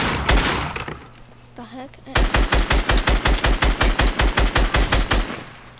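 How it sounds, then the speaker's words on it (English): Fortnite gunfire breaking a fence: a few shots, a brief pause, then a steady rapid string of loud evenly spaced shots with splintering impacts, a voice speaking briefly in the gap. "Three shots to break a fence."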